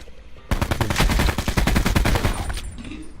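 Automatic gunfire in the Call of Duty Blackout video game rattles out in one loud, rapid burst of about two seconds, shots evenly spaced, then trailing off.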